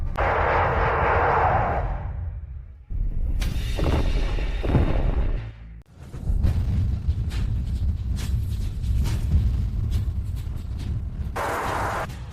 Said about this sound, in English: System, fire all missiles.